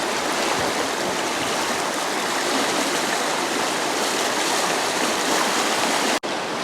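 A river running high after a storm rushes past a dock in a loud, steady broadband flow with no voices, ending in a brief cut.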